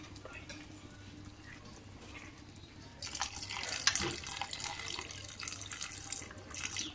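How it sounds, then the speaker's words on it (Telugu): Water is poured into a pot of banana curry (aritikaya curry), a soft trickle at first that swells into a louder, splashing stream partway through, close by with no talk over it. "ఇప్పుడు ఇంకాస్త వాటర్ పోసుకొని"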